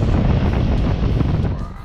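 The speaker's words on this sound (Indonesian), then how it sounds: "Coba fan yang paling besar." Air conditioning fan of a 2017 Toyota Yaris Heykers automatic running at top speed, a steady loud broadband rush of blowing air filling the car cabin without a break.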